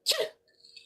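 A single sharp sneeze bursts out close by, followed by a faint sniffly tail.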